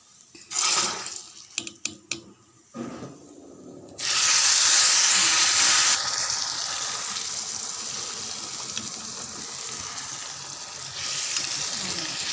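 Loud bubbling and hissing of a pot of fish curry with anchovies simmering on the stove, steady and close, after a few seconds of clattering and quieter rustling.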